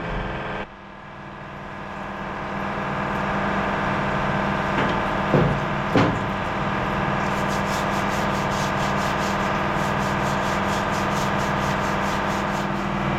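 Tractor parts being scrubbed in a plugged-in parts wash tank during a John Deere 6170R service, a steady rubbing and sanding scrape over a constant motor hum, with a few sharper knocks midway.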